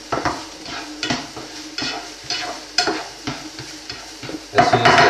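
Onions fry in a pan for pasta frutti di mare, a close sizzle with repeated scraping and stirring strokes and light clinks of a utensil on the pan, growing louder at the end.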